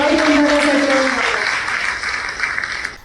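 Audience applause at a Konkan news gathering, a loud sustained burst of clapping that fades out after about three seconds, with a voice briefly audible at the start.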